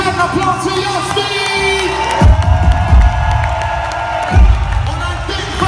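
A concert crowd in Hamburg's Sporthalle cheers and shouts, a loud, continuous roar of many voices with heavy low thumps and booming bursts rising and falling throughout.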